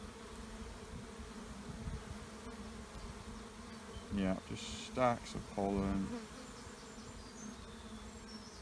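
Honey bees in an opened beehive, a soft continuous hum from the colony with a few closer buzzing passes and brief handling knocks, while a person talks quietly.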